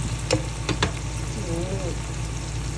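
Chopped onions frying in a pan before sardines go in, a steady low hiss and crackle throughout with a few brief scraping stirs of a utensil near the start.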